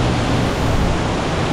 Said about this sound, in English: So guys, this is the waterfall